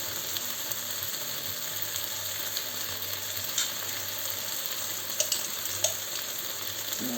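Garlic paste fries in a pan with a steady, close sizzle, broken by a few faint clinks and stirring sounds.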